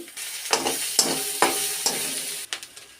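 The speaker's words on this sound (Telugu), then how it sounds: "అల్లం వెల్లుల్లి పేస్ట్ ఒక స్పూన్ వేసుకుందామండి." A spoonful of ginger garlic paste frying in hot oil sizzles loudly and steadily while a spoon scrapes through it in about five distinct stirring strokes, close up with no talking.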